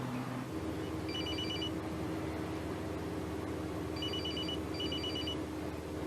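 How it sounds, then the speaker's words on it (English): A telephone rings aboard a bus in repeated electronic double trills, three short bursts over a steady engine drone and hiss, no voices. "Was anybody annoyed by the phone ringing and someone suddenly start talking on the bus?"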